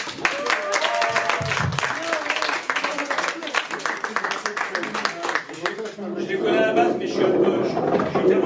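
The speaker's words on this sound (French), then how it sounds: "Veuillez applaudir Noël, s'il vous plaît." An audience at a slam poetry evening in the MJC Picaud hall in Cannes claps throughout, with voices talking over the applause before the clapping swells more fully near the end.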